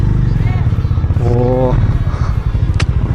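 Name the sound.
Harley-Davidson X440 motorcycle riding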